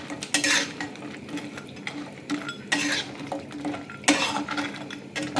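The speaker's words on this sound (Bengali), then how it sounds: "পকোড়াগুলো এর সাথে একটু মিক্স করে দেবো আমি।" A utensil stirs fried pakoras into a light gravy in a pan for a flour-based chilli dish, with repeated scraping and metallic clinks over a soft background sizzle.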